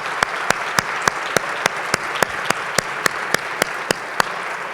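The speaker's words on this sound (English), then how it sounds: "Could we have a round of applause for all of our partners who help us?" Audience applause for event partners at a women-in-leadership gathering: a dense crowd clapping steadily, punctuated by one loud, close clapper striking in an even rhythm about every quarter second.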